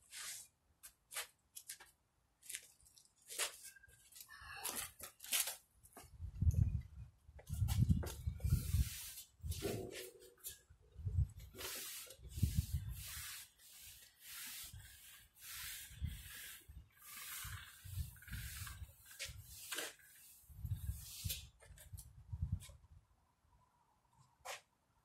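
Towel rubbing and wiping across a freshly refinished stainless steel surface, with repeated close scrubbing strokes in irregular bursts and short pauses between them.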